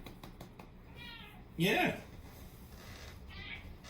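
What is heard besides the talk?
cat meowing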